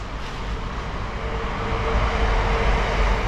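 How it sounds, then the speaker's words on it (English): A train rumbles past somewhere near a garage where an old VW Bay Window van is being worked on, a steady broad roar that swells slightly toward the end, with no voices over it. "And we've got a train going past"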